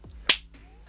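A single sharp hand clap used as a sync marker before recording, one bright crisp hit near and alone in a quiet room.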